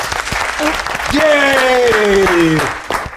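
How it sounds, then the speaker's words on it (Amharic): A studio audience at a family game show claps together in a steady, loud burst of applause lasting about three seconds, with a voice faintly audible over it. "እስቲ አጨብጭቡና እንቀጥል በሉ"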